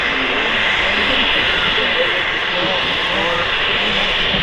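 Jet aircraft at Manchester Airport giving a loud, steady engine roar that fills the whole stretch, with people talking over it nearby.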